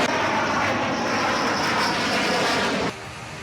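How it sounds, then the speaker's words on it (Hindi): Dassault Rafale fighter jets arrive at Ambala airbase in July 2020, a loud, steady roar of jet engines sustained for about three seconds before dropping abruptly in level. "अंबाला में वायुसेना के एयरबेस पर आज 5 राफेल विमान हिंदुस्तान की जमीन पर पहली बार पहुंचे"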